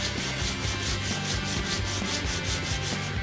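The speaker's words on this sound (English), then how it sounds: "For the smaller pieces like this, I will indeed just be using sandpaper" Sandpaper worked by hand over a small piece of a Batman Arkham grapple gun prop, a steady close rhythmic scratching rub with quick back-and-forth strokes and no pauses.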